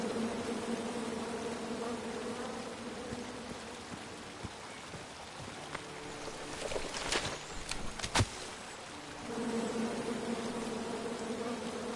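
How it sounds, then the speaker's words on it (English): Angry bees buzzing from a tree in the video game King's Quest, a steady droning swarm that thins in the middle, has a few sharp clicks, then returns at full strength. "Come at me, bees!"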